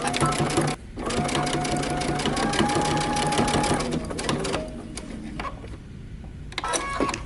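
A close sewing machine stitches across the shoulder seam of a top made from Simplicity pattern 8136, whirring in a rapid, steady rhythm with brief slowdowns. A voice talks faintly under it.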